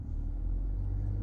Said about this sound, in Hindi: एक्सीलेटर को टच किया, एक गाड़ी के इंजन की आवाज है ना